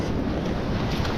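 Surf washing up a beach during razor clam digging, a dense, steady rush of water with wind noise buffeting the microphone throughout.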